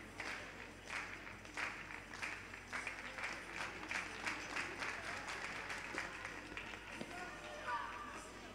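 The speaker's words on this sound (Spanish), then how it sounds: "Fortísimo aplauso para Alberto Elena, que remata así a súa actuación" Applause at an indoor athletics championship after a triple jump: faint, sustained clapping from a distant crowd, with a commentator talking over it.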